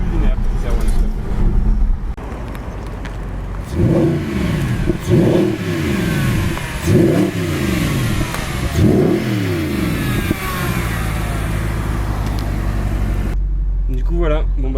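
A Mercedes SLS AMG engine revs hard in a series of four rising pulls, loud and close, under a constant roar of road and cabin noise.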